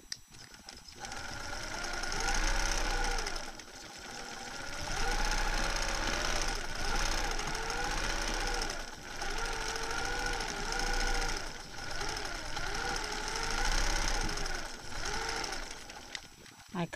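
A quilting sewing machine stitches echo quilting around a flower motif, its steady mechanical chugging rising and dipping in runs with brief slowdowns, close and moderately loud.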